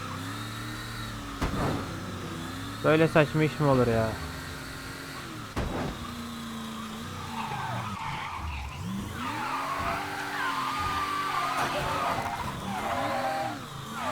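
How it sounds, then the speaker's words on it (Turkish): A fast but poorly handling car in the game Mafia 3 skids and squeals its tires amid steady engine drone, with sharp screeching bursts standing out over continuous road noise while someone talks over the action. "Bu araba hızlı da kontrolleri kötü."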